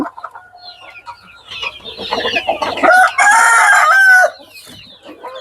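Hill and native chickens on a farm cluck and squawk close by, building to a loud, sustained crow-like call in the middle before settling back into scattered clucks.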